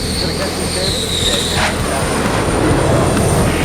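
A heavy fighter jet lands on a nuclear supercarrier, with a loud continuous engine roar and a high whine over broadband rumble and wind, dense and unbroken throughout.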